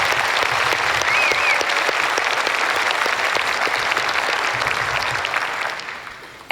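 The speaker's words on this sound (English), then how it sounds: "Please join me in giving them a round of applause." A large audience applauds at a state opioid response summit, a steady close wash of clapping that fades away over the final second.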